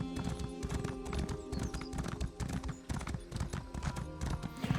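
A ridden horse in the Elder Scrolls Online video game clip-clops at a brisk, even gait, its hoofbeats loud, close and rhythmic throughout.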